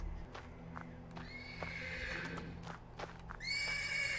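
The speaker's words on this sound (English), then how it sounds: "The persistent neighing of a horse can be heard from the stables." A horse whinnies several times from stables in the game Black Book, over a low, steady hum, with a few clopping knocks between the calls and a loud neigh at the end.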